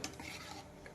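Salt being stirred into rice boiling in a pot, a brief close scrape and swish of a spoon against the pot lasting under a second.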